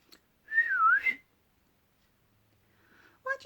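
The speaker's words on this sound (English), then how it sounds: "whistled loudly" A single loud, clear whistle swoops down and back up for under a second, followed by near silence and a brief faint sound at the end.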